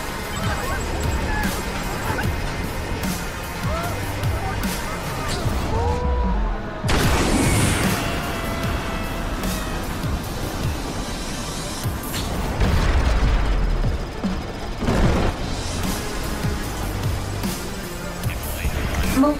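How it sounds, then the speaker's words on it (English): Explosions and collapsing structures in the Xbox One game Screamride: deep booms at intervals, crashing debris and mechanical clatter, over a continuous busy din with a voice-like layer in the mix. "Detected multiple explosions."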